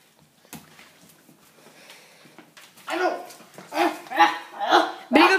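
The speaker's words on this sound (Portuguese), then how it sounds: "Viu? Esse é um cachorro bagaceiro." A small dog gives a run of sharp, close barks in quick succession after some quieter moments, with rustling and a person nearby.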